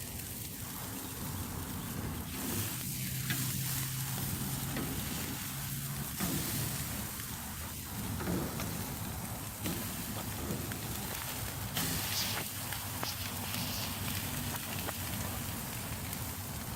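Steaks sizzling slowly on a grill or pan, a steady broadband crackle and hiss running continuously at moderate volume, close by, with no talking over it.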